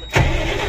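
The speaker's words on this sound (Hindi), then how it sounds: "गाड़ी स्टार्ट हो गया" A Tata BS4 common rail diesel engine cranks and catches after a brief quiet moment, settling straight into a loud, steady idle close by.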